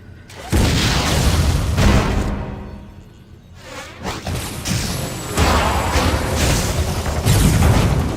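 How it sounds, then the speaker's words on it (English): A missile fired in the video game Metroid Other M bursts with deep booms and crashing blasts, followed by whooshing effects and a noisy rumbling tail. "Why not say hello with a missile?"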